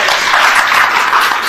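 Audience applause fills a conference hall during an Urdu journalism conference in Pakistan, a steady dense wash of clapping from many hands, loud and continuous throughout with no voices over it.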